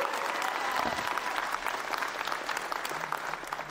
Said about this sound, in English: Can everybody give her a giant round of applause?